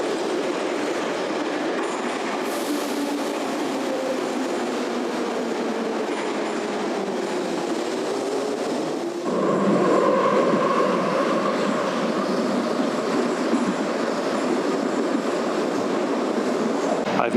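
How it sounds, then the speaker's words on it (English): A Kyiv metro train runs through a tunnel with a loud, steady rumble and roar, rising a little midway as the wheels grind and faintly squeal, with no talk over it. "catch the subway now to the deepest subway station in the world at over 130 meters deep"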